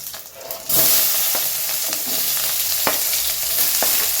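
Mustard seeds and cumin hit hot oil in a home kitchen, a sudden loud sizzle that settles into steady spattering frying with occasional pops and stirring clicks, close by and without talk.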